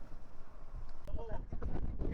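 Strong wind gusting at a beach in Infanta, Quezon, rumbling and buffeting the microphone throughout, with people talking under it.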